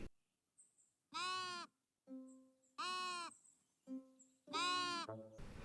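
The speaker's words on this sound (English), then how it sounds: "you could pet the sheep!" Sheep in the cozy building game Tiny Glade bleat three times, clear and close, each a wavering nasal call with quiet gaps and soft chimes between.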